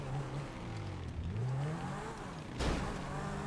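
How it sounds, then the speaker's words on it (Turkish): In a GTA video game, a drift car revs its engine up and down with rising and falling pitch, and a sudden loud tire skid near the end, close and continuous. "Drift arabası herhalde değil mi bu Hakkı?"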